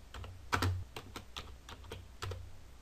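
Typing on a computer keyboard while entering a company name into a Word document header, about a dozen crisp key taps in uneven bursts, close and clear with no talk.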